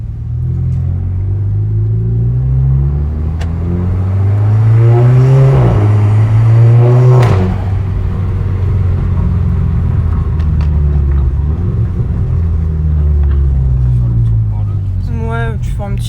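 Interior engine note of a Golf 6 GTI Edition 35 tuned to 320 hp, a loud steady rumble rising and falling through revs and gear changes, with people talking over it.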